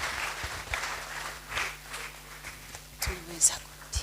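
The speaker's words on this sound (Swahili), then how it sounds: "Shangilie Bwana Yesu kwa makofi mazuri." A church congregation at an Anglican Sunday service claps together, with scattered, uneven handclaps of moderate loudness and a few sharper claps near the end, set over low room hum and faint background voices.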